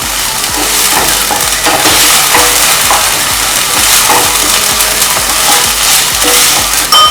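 Spices sauté in hot oil with a pinch of hing for a North Indian rajma masala, giving a loud, close, continuous sizzle with dense spluttering crackles and no talk.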